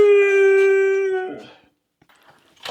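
Puppies let out a long, clear, high howl that holds steady for over a second, then trails off into quiet with faint whimpers and a brief noise at the end.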